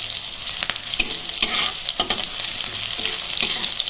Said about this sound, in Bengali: তো পেঁয়াজটা একটু ভাজা হয়ে নিক।